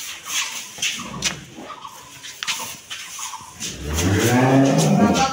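A cow on a Rangpur dairy farm gives a loud, sustained moo near the end, after a stretch of scattered farmyard noise and indistinct voices.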